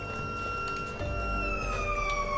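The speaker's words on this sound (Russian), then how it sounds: "Опять сирена?" A siren wails in the video game Garry's Mod during a zombie survival round in the Jazztronauts gamemode, a steady electronic tone that slowly sweeps downward and holds loud and continuous with no talking.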